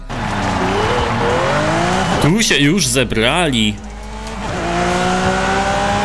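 A Lamborghini in the racing game Forza Horizon 5 revs loudly with rising engine tones, then gives a sharp burst of tire squeal and skidding before settling back to a cruising drone, with someone talking over it.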